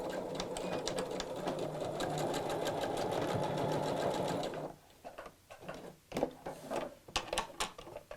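Sewing machine running a long steady burst of back-and-forth stitching on a rucksack, then stopping for a series of short clicks and handling knocks near the end.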